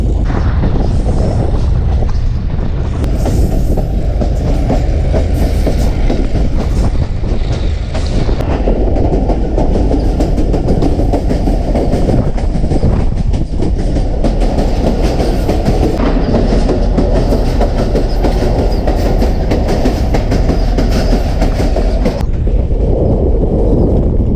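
Loud, continuous rumble and roar of a passenger train running on rails between Attock and Jand, Pakistan, with steady clatter throughout and no pauses.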